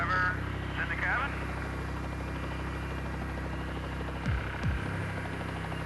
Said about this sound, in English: The pilots must hold the chopper in a steady hover until Eric has fully administered